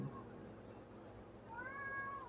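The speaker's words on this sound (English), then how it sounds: "here comes a kitty who got left out of the relaxation, but she wants to join in the meditation" A cat gives a single drawn-out meow that rises and then falls, fairly faint against a quiet room during a calm meditation session.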